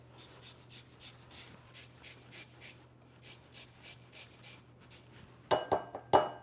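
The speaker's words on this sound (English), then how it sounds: "So I'm going to coarsely grate 1 lemon." A whole lemon being coarsely grated by hand, giving a steady run of rhythmic rasping strokes at close range, followed near the end by a few sharper clinks from a utensil.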